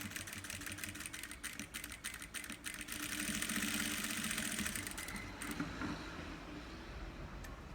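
A sewing machine backstitches over fabric pleats on a car trash bag with an organizer pocket. It gives a continuous, fairly close whirring drone with rapid ticking that swells in the middle and then settles.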